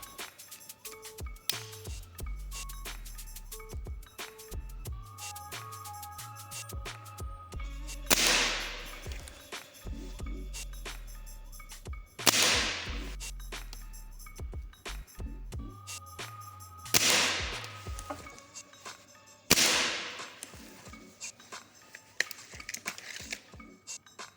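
Four sharp shots from a Gamo Swarm Magnum Pro 10X Gen3i air rifle ring out several seconds apart, each a crisp crack over a low background hum.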